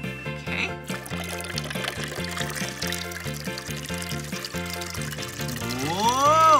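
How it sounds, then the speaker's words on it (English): Water is poured into lemonade mix as a steady trickle, partly masked by continuous upbeat background music that swells toward the end. "let's add our water"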